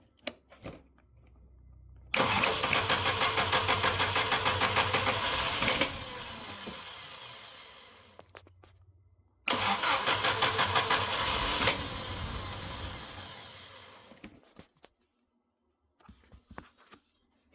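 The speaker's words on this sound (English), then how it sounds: "A restart is attempted." A car engine with a hot carburetor, running at fast idle with the hood open, is restarted twice: each attempt brings a loud rhythmic starter crank lasting several seconds that fades off, with quiet gaps between.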